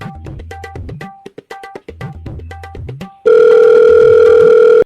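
A telephone call plays a sequence of short electronic beeps and tones, then switches to a loud, continuous dial tone that holds steady to the end.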